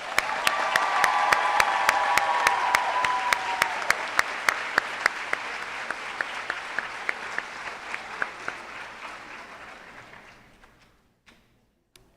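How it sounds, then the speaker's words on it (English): Audience applause at an alumnae association annual meeting, a sustained dense round with sharper individual claps standing out, tapering off near the end. Faint talk sits beneath the opening moments before it fades. "Let's give them another round of applause."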